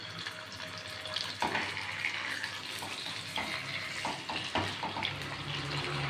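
Pomfret fish fries in hot oil, a dense continuous crackle and hiss close by, punctuated by sharper pops and spatters at irregular moments as the fish settles into the pan.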